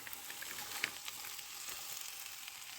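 Turmeric frying in hot oil in a pan for a Kerala-style red spinach and egg thoran, a steady faint sizzle with a few soft stirring taps, heard alone.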